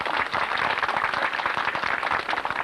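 An outdoor crowd applauds the podium riders at the 1993 FSGT French cyclo-cross championship in Lacenas, a steady, dense wash of clapping that holds at an even level for the whole stretch with no pauses.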